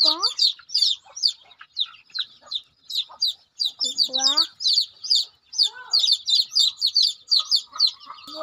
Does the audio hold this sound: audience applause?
no